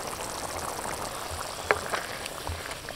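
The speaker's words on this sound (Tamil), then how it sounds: "இப்போ வந்து தக்காளி வந்து பச்சை வாசனை போக நல்லா கொதிச்சுட்டு இருக்குதுங்க" Tomato paste with salt for a babycorn gravy bubbling in a pan, a steady soft simmer with a couple of small pops, no talking.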